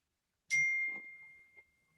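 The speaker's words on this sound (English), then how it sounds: "Somebody rang a bell," A single bright ding from a phone notification rings out clearly and fades with a lingering tone in an otherwise quiet room.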